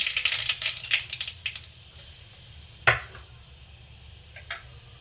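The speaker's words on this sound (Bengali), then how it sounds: "তেলটা গরম হয়ে গেছে আমি এখানে দিয়ে দেবো কটা সর্ষে ফোড়ন" Mustard seeds tossed into hot oil for a tempering spit and crackle in a quick flurry of sharp pops at first, then thin out to a few isolated snaps over a quiet background.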